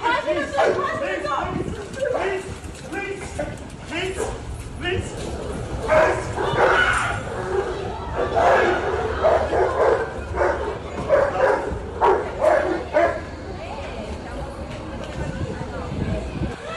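A pit bull barks and yips amid chaotic attack footage, with a voice talking over the repeated sharp barks throughout.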